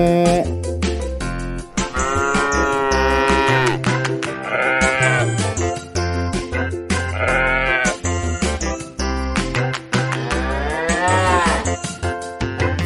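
A children's song where animal sounds are imitated, with sustained wavering bleat-like tones over a steady sung melody and backing music, one voice mimicking a goat's cry.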